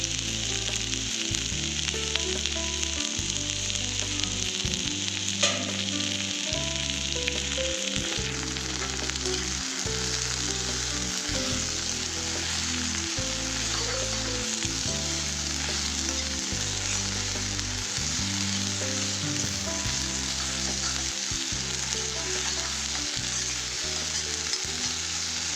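Fiddlehead fern with onion, chickpeas, salt and turmeric fries in a pan with a constant, close, hissing sizzle and some stirring, under steady rhythmic background music.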